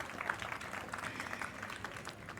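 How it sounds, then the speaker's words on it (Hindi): An audience at a Hindi poetry gathering claps steadily through the clip, a soft, fairly distant patter of applause with no voices over it. "जोरदार तालियां बजती रहें।"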